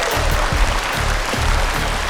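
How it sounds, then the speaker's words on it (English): A crowd claps for the champions of a school electric-vehicle racing competition, steady dense applause running throughout with no break. "Let's have a big round of applause for these guys."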